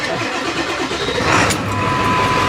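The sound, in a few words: Power Stroke diesel truck engine starting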